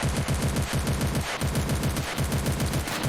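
Coaxial tank machine gun firing in the video game Ravenfield during a Stalingrad battle, a continuous rapid burst of loud rhythmic shots with brief pauses, close and dominant, no speech.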